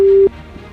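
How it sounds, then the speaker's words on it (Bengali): A telephone busy signal sounds loud and close: a steady single-pitched beep, a short gap, then the next beep, indicating a call that will not connect. "ফকির ফোন তো ঢোকে না।"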